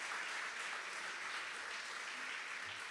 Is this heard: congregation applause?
yes